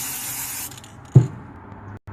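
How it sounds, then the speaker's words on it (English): A steady aerosol spray hisses for most of a second, then cuts off; a short tap and softer hiss follow, with no one talking. "now all we're going to do is spray paint."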